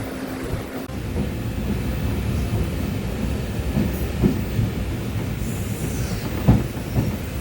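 A passenger train from Sawantwadi to Mumbai rumbles along the rails, heard from inside the carriage as a steady low drone with rhythmic clatter and occasional faint wheel squeals.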